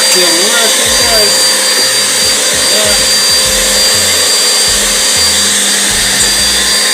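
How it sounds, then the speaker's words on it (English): A vacuum cleaner runs loud and steady, a constant whooshing whine throughout, with a brief word spoken once over it. "Vacuum working guys."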